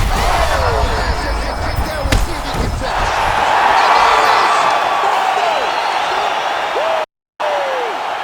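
An arena crowd roaring and cheering in the UFC 5 video game as a fight ends, a loud sustained roar with whoops and a sharp impact early on, under commentary voices.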